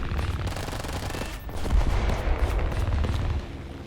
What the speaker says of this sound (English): And the machine guns, as you've already noticed beforehand, are very good at taking out light ground targets.